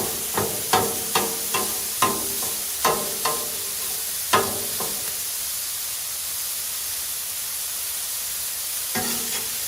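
Steak and chorizo sizzle on a Blackstone griddle in a steady loud hiss, punctuated by a run of rhythmic spatula taps and scrapes early on and a couple more near the end.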